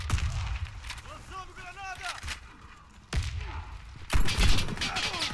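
Gunfire in the online shooter Warface on an oil depot map, with bursts of shots and sharp cracks scattered through the stretch, the heaviest near the end, mixed with game effects.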